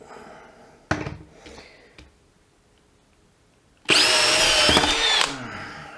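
DeWalt DCD701 12V brushless and Milwaukee M12 FPD Gen2 cordless drills, a brief short burst first, then a loud high-pitched whirring run lasting over a second before cutting off, close up.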